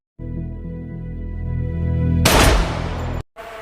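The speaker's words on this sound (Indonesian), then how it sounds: "Madam langsung menembak Torada." A single loud gunshot from a Japanese yakuza film, bursting over a sustained tonal musical drone and decaying into a rumbling tail before the sound cuts off abruptly.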